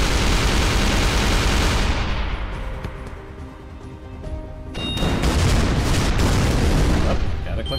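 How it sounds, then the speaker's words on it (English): Loud grenade blasts and booming impacts in the artillery game ShellShock Live, a heavy roaring explosion that fades mid-way, then a second burst of crackling detonations with metallic tones. "Have another grenade!"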